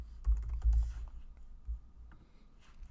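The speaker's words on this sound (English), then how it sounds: "we're just going to type in the text YouTube" Keystrokes tapped on a computer keyboard while entering text, a handful of soft clicks in a quick irregular burst near the start, then sparse faint taps against quiet room noise.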